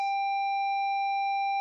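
A steady electronic hum from the siren in the Roblox game Demonology, one unbroken pure tone held at even loudness for under two seconds, clean and alone with no voices.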